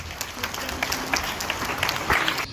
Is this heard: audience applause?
yes